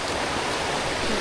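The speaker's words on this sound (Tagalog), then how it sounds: "Tubig dito sa amin sa sapa." A clear creek in a rural province flows steadily nearby, giving a continuous, even rushing and burbling wash of water with no pauses or voices.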